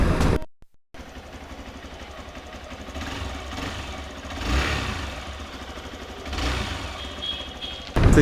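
A Hero XPulse 200 motorcycle engine runs steadily after a cold start, a close mid-pitched idle with a couple of brief revs swelling and settling, opening after a short cutout.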